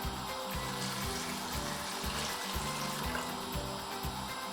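Water runs steadily into a cooking pot for chickpea pulao with a soft, continuous splashing, fairly quiet and close, with faint rhythmic clunks beneath.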